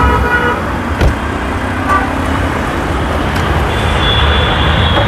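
A used Toyota Premio's engine runs with a steady, dense rumble, overlaid by traffic noise and a few brief horn toots.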